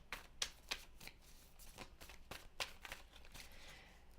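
Tarot cards shuffled and drawn by hand in a quiet room, a run of close, crisp riffling flicks and soft slaps arriving in uneven bursts with no talking.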